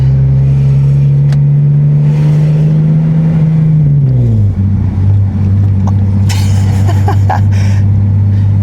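A Nissan 370Z drives along with a loud, steady engine drone heard from inside the cabin. Revs hold, dip at a gear change, then settle into a lower even note, with a few faint rattles and clicks.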